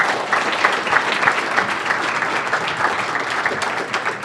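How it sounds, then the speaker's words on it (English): Steady, dense applause from a sizable audience at a startup demo day, continuous and fairly loud throughout with no voices standing out. "can we get a round of applause for all the demoers, please?"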